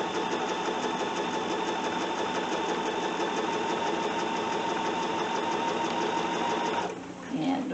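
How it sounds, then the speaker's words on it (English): A sewing machine runs steadily as it stitches a fabric casserole cover, a loud, even mechanical whirr that holds for several seconds and then stops abruptly near the end. "We'll go down, get these two on, and then off camera, I'll sew the rest."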